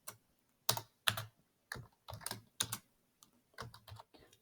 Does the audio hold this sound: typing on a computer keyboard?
yes